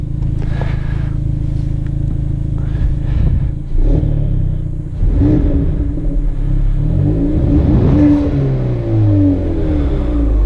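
Hyundai Veloster N with an SXTH Element intake and its exhaust in quiet mode, revved several times over a steady idle. The engine swells into deep, rumbling surges and falls back, loud and close, with no voices.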